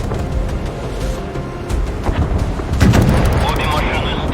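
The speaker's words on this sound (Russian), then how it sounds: "Отправляю ракету по адресу." Missile launch from a warship in the naval combat game Force of Warships, heard as a rising whooshing roar with booming blasts that swell toward the end, set against continuous battle noise.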